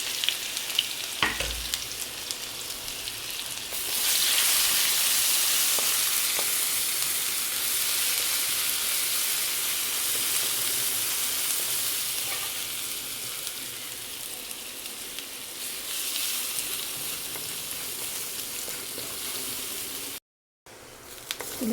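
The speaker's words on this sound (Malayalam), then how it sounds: "അതിലേക്ക് നമ്മൾ ഇഞ്ചിയും വെളുത്തുള്ളിയും പച്ചമുളകും കൂടെ മിക്സിയിലിട്ടൊന്ന് പൾസ് മുറി ചതച്ചതങ്ങ് ഇട്ട്" Crushed ginger, garlic and green chilli hit hot oil in a pan for a chicken roast, bursting into a loud hiss that settles into a steady sizzle with occasional stirring, close up and without talk.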